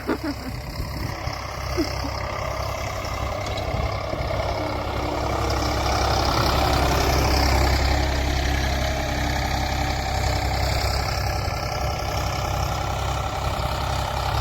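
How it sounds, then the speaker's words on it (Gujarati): A tractor engine idles steadily throughout, a low continuous rumble with a constant drone, heard close and fairly loud with no talking. "ટ્રેક્ટર એકલો હાલે છે."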